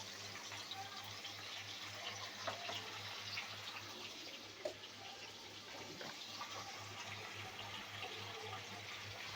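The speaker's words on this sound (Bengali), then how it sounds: "এই জন্য সামান্য জল দিয়ে দেবো।" Water is poured into a rohu fish curry with vegetables, giving a steady, soft rushing sound close by against a faint low hum.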